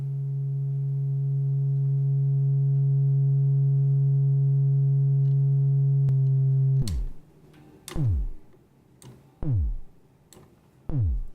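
A single synth voice from a JMT sequencer drum machine, oscillator on, holds a steady low sustained tone for about six seconds, then gives way to several sharp descending pitch-swept blips in an irregular rhythm, alone with no talk.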